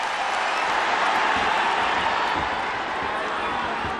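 Crowd noise at a boxing arena during the Inoue vs Donaire bantamweight final, a loud continuous roar of cheering and applause that fills the whole stretch with no break.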